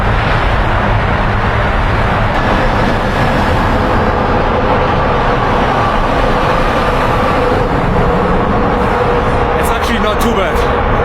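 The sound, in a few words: car passing loudly through a road tunnel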